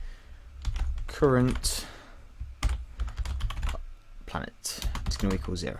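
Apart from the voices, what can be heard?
typing on a new computer keyboard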